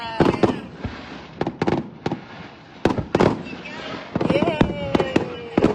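New Year's Eve fireworks at Caroline Bay, Timaru, burst repeatedly at an irregular pace, sharp cracks and booms scattered across several seconds, with excited voices and cheering in the background.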